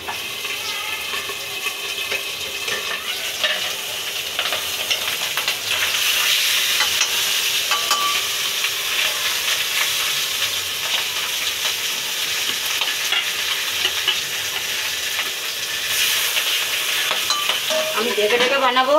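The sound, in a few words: pabda fish frying and popping in hot oil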